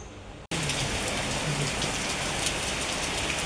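Heavy rain pours down in a dense, steady roar that begins abruptly after a brief hush, loud and close, with no voices.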